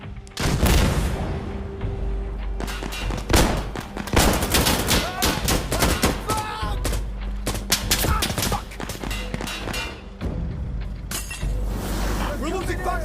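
RPG explosions and heavy gunfire in the video game Insurgency Sandstorm, with dense rapid automatic bursts, sharp cracks and booming blasts filling the whole stretch, close and loud, with voices shouting over the battle.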